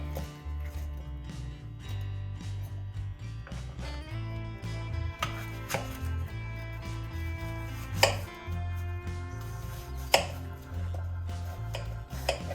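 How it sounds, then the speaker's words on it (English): Apples being chopped into small pieces with a knife, with a few close, sharp knocks on a board standing out over a steady low background hum. "Chop up the apples into small pieces and place them into a large bowl"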